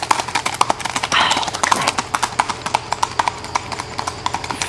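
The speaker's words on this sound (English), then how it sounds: "This is a 12-year-old Kentucky Mtn horse mare." A 12-year-old Kentucky Mountain horse mare moves in a smooth gait on a trail, her hooves clopping in a quick, even rhythm that is close and loud, with no talk over them.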